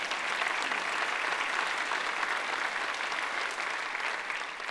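An audience at an Oklahoma State University agricultural sciences campaign event breaks into applause. The clapping is dense and sustained, staying steady for several seconds and tapering slightly at the end.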